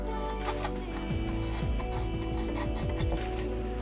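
A plumbing fitting for a home water line has its rough edges filed by hand, making a close, rhythmic rasp of repeated strokes against the metal, steady and fairly loud, with no talking.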